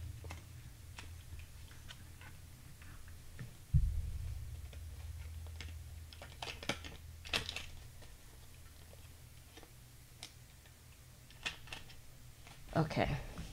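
Scissors snip through washi tape in a handful of crisp, scattered clicks and cuts at close range over a soft background rustle, with one louder thump early on.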